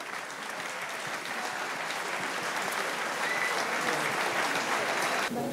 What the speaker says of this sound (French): sous un feu nourri d'applaudissements